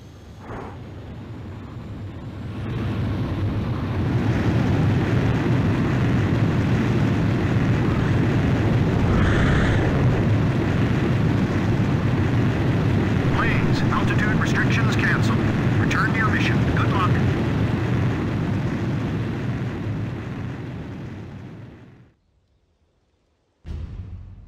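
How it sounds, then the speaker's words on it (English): A fighter jet takes off in the Ace Combat 5 video game with a loud, sustained engine roar that swells in, holds steady for nearly twenty seconds, then cuts off abruptly. "Blaze, you are cleared for takeoff."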